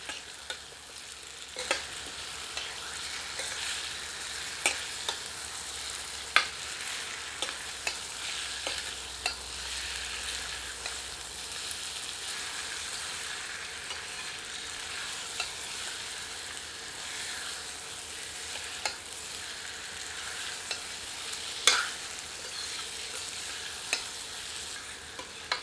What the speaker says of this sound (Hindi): सबको मिलाकर 3 से 4 मिनट मध्यम आंच पर भूनते हैं।